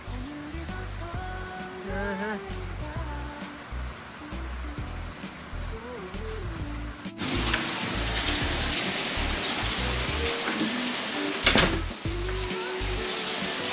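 Rain falls outdoors at a home, a soft hiss that turns into a louder, denser patter about halfway through, with voices talking over the first half.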